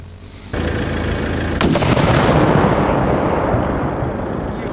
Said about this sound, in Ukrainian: сапери поліції заклали вибухівку та знищили безпілотний літальний апарат шляхом електропідриву